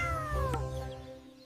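A cartoon cat gives a single drawn-out meow with a falling pitch, close and clear over a steady low musical background.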